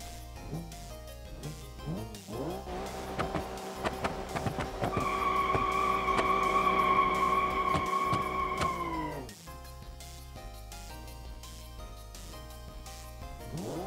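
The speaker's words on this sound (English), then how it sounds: "Good, aggressive, and smooth V10 noises here." V10 engine of a Viper concept car in a racing game revs up and holds a loud, smooth high-pitched drone for several seconds before dropping back, with brief gear-change blips around it.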